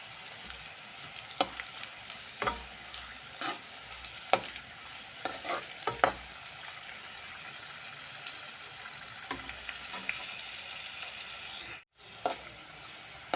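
Peeled garlic cloves fry gently in oil, a soft steady sizzle with scattered spoon clicks and stirring taps, fairly quiet and close, with a brief dropout near the end; no talking.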